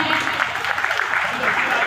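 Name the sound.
applause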